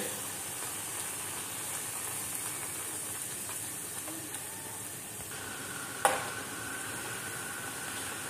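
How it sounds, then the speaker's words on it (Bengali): Puri frying one at a time in a pan of hot oil gives a soft, steady sizzle and hiss, with a sharp brief clatter partway through. "এভাবে আমি সবগুলা ভেজে নিচ্ছি দর্শক"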